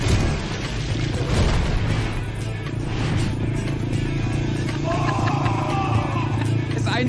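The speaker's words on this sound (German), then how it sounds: "Ist eins mit dem Motorrad." Motorcycle engine droning steadily throughout amid a busy mix of crowd babble and clatter, with a brief tonal whine rising near the end, heard over a low rumbling bed of noise.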